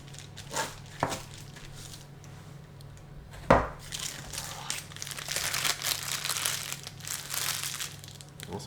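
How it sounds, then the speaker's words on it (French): Dog treat dough is pushed through a plastic piping bag with the back of a knife, giving close, soft crinkling and rustling with one sharp crackle in the middle and steadier scraping toward the end. "on pose sa poche et puis avec le dos du couteau, on pousse"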